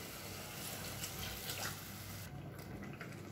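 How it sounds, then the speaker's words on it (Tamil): Water poured into a Tamil-style fish curry while it cooks, a steady, soft liquid rush with a gentle bubbling sizzle running throughout, fairly faint and without talk. "இப்போ அதுக்கு தேவையான அளவு தண்ணி சேர்த்துக்கலாம்"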